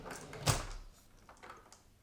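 A drawer in a perfume sample storage unit slides open with one sharp thud followed by faint rustling and light knocks, close and fairly quiet, with no talking.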